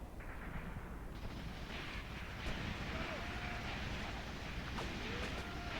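Gunfire and artillery in the WWII combat game Graviteam Tactics, set around Kharkov in 1941, distant muffled booms and crackling shots over a dense rumbling battlefield ambience, with a few faint whistles.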